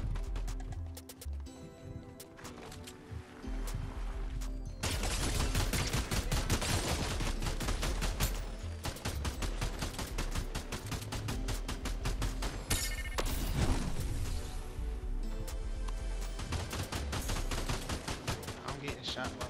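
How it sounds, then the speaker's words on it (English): Rapid gunfire crackles in the video game Fortnite, dense bursts of shots from more than one weapon at once, continuous and loud with a brief pause early on, while a player talks over the action. "getting shot by like two people at once"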